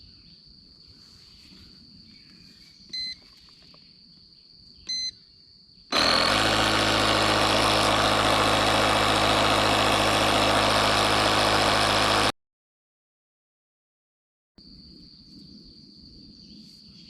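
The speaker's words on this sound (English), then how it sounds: "let's see if this compressor here can pump this tire up." An air compressor pumps up a tire with a loud, steady broadband roar lasting about six seconds, then cuts off abruptly, with crickets chirping quietly before and after.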